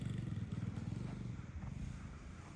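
A pit bike motorcycle engine runs nearby with a rough, uneven idle, a low pulsing putter that wavers and fades slightly over a couple of seconds amid faint background clatter.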